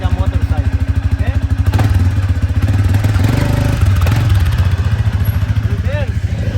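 Close, pulsing engine chug of an ATV running, its throbbing beat speeding up and settling again while people talk over it.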